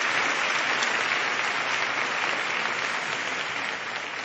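Steady, dense applause from an audience at a university interfaith summit, holding at even loudness throughout and easing slightly at the end, with no talking over it.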